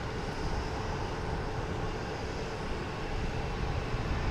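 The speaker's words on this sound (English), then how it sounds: "Here's Air Canada taking off, heading to Toronto. Another A220." An Air Canada Airbus A220 jet takes off from Logan Airport, heading to Toronto. The roar is broad and steady at moderate distance and builds slightly over a few seconds.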